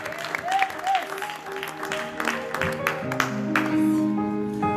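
A church congregation claps and cheers to acclaim Jesus during a French-language service, sustained applause that swells and ebbs over a few seconds, with voices and tonal singing or music rising underneath toward the end.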